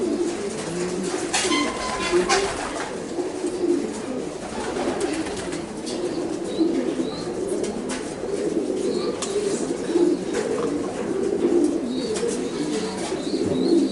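Racing pigeons in a loft coo steadily in low, throaty repeated calls, several birds overlapping at close range, with occasional faint chirps and rustles and no clear talk.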